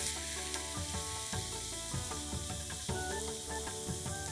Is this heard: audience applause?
no